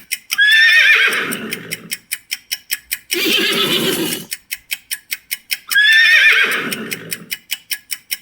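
A recorded horse whinnies three times, each a loud, shrill, descending neigh. Rapid, evenly spaced clip-clop hoofbeats ring between the calls, and the pattern repeats.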